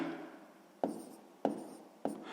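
Pen strokes on paper while a sixth-grade math exercise is worked out: three short, crisp scratching bursts spaced roughly evenly apart, close and fairly quiet, with no voices.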